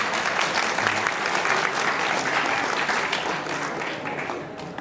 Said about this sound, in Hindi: बेटियों के लिए ताली बजा दो।